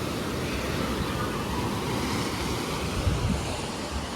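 Ocean waves wash steadily onto a beach in El Salvador or Honduras, a continuous broadband surf roar with wind buffeting the microphone and no clear separate breakers.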